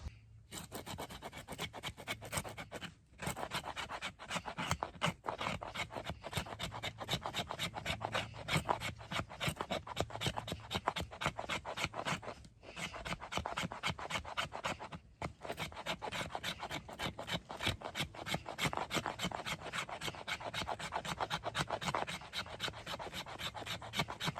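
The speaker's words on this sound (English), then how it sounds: "For a 3/16 thick knife, this actually feathers and slices amazingly well." Steel fixed-blade knife, a 3/16-inch thick Very Good Knife Co Adventure, feathering and slicing wood in a steady run of close, rasping scrapes, with brief pauses between strokes.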